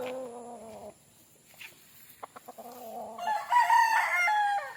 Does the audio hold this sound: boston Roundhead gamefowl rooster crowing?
yes